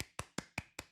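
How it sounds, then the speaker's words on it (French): A person claps their hands five times in a steady, even rhythm, each clap sharp and close, with no other sound between them. "Je t'applaudis, moi."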